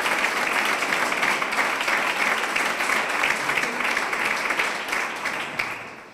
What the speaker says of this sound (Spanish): Quiero darle un caluroso aplauso a ella.